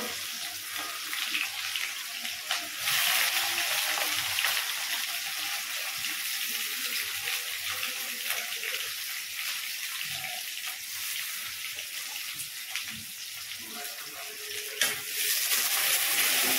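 Onions frying in a pan for dhaba-style chicken curry: a steady, hissing sizzle that runs continuously at moderate loudness, with occasional small pops and no talking.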